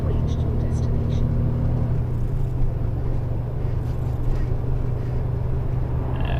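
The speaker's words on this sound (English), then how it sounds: "Yeah, something not quite right with this truck." Struggling truck engine in a truck-driving video game, a steady low droning rumble with a pitch shift early on, continuous and close, with a person talking over it.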